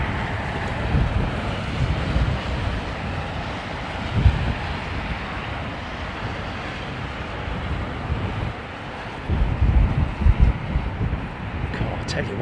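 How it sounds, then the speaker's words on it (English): Cold wind gusts across an open spot at London Heathrow Airport in heavy snow, buffeting the microphone with a continuous low rumble that swells in bursts, while someone talks over it. "Tell you what, that wind is cold, mate. It's a chilly old breeze."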